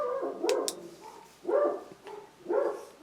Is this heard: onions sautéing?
no